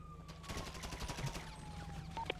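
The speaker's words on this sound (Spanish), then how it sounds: "yo escucho disparo, pero no lo veo bien." Quiet, rapid bursts of automatic gunfire crackle in a GTA roleplay game soundscape, a fast rattling volley over a steady hum with a few electronic blips.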